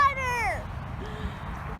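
A house cat gives one clear, close meow that falls in pitch. A fainter second vocal sound follows against a quiet indoor background.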